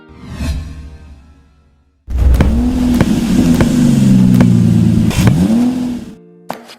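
A car engine revs loudly in an animated street drama, a sustained roar that rises and dips over several seconds. Sharp whooshes and clicks punctuate it, and it cuts off abruptly near the end.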